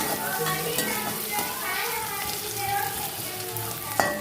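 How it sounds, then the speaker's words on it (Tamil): Steady sizzling of onions and dried red chillies frying in a hot pan, continuous and close, with occasional clinks of a utensil stirring. "இப்போது நம்ம நறுக்கி வச்சுருக்க வெங்காயம் வரமிளகாய் போடுவோம்"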